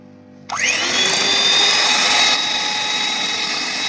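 An electric egg beater hand mixer with seven speeds switches on after a quiet moment, then runs with a loud, steady high-pitched motor whine until the end.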